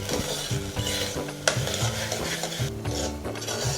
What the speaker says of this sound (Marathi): तेल आणि जिरं मोहरीचा थोडा स्वाद या तांदळाला लागला पाहिजे आणि हळद पण म्हणजे भात संपूर्ण पिवळा दिसायला हां अशा रीतीने भाजून